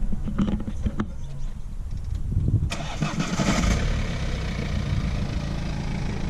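A BMW E92 Pack M with a four-cylinder diesel engine is cranked and catches with a sudden loud burst, then settles into a steady, close-up idle.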